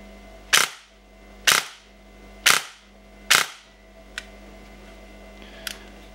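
A MosFet-equipped Leviathan Evo3 airsoft gun fires four sharp, evenly spaced bursts about a second apart, each a crisp crack with a short tail, followed by two fainter clicks.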